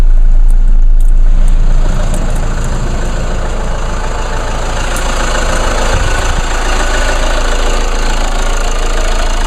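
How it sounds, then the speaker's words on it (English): A 2-liter diesel car engine idles with a steady, even low rumble and a constant mechanical hum, close and fairly loud, with no voices. "And there's the engine on my car."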